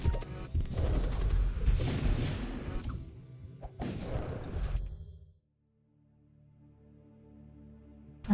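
A missile launch and combat blasts in a spaceship combat game: dense rumbling booms and whooshes for several seconds, then a drop into near silence with a faint low hum, no talking.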